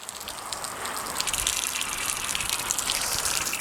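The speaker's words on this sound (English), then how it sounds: "That's, we got water" Water gushes from the hose of a Craftsman pressure washer with no spray gun attached, a steady, rushing, low-pressure flow that swells slightly in the first second and then runs evenly, close and fairly loud.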